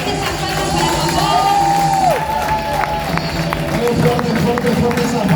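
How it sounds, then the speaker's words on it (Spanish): A church congregation claps and cheers during a service, with scattered whoops and rising shouted voices over a continuous bed of crowd noise and clapping. "Dale fuertes aplausos para papá"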